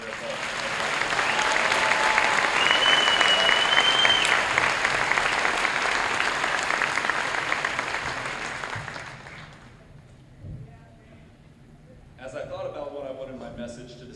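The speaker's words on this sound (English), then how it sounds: "Please join me in giving our teachers a round of applause for their help." A graduation crowd at Tonganoxie High School applauds its teachers, loud steady clapping that swells then fades out after about ten seconds, followed by a near speaking voice.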